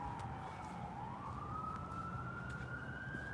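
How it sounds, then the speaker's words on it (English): A car's electronic siren sweeps upward in a slow continuous wail, rising gradually in pitch over steady road and traffic noise, fairly distant and moderately loud. "he's starting the other siren sound right now."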